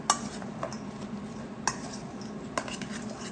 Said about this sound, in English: Okay, I'm going to give it a mix.